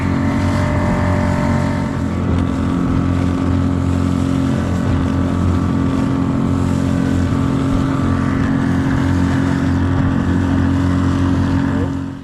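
A small Pond Prowler boat with a six-horsepower outboard motor runs at steady speed on the water, its loud, even engine drone continuing unbroken and close throughout, with no talking.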